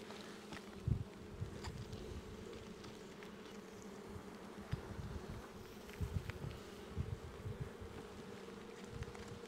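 Honey bees buzz around an open beehive during a spring inspection, a dense, continuous low drone of many insects with scattered louder passes close by, fairly quiet overall and without voices.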